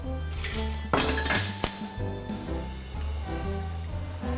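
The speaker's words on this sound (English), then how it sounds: "We're just gonna stir this up." Adobo being stirred in a pot, with a steady run of metallic clinks and scrapes from a utensil against cookware over a low background hum, and a few sharper knocks partway through.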